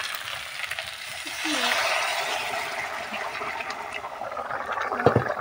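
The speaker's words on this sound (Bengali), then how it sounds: "দেখো ওই পাশে গরম জল বসিয়ে রেখেছি, ওই গরম জলটাকে দিয়ে দেবো" Hot water poured into a pan of simmering vegetable curry made with drumsticks, giving a steady broad pouring and sizzling wash that swells for a few seconds, then settles into a soft bubbling simmer, close and alone.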